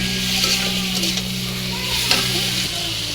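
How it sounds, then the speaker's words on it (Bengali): Bitter gourd being stirred with ground spice paste and onions in a pan, soft frying sizzle with light scraping of a spatula, a steady low hum in the background. "ভালো করে নেড়ে চেড়ে নেব।"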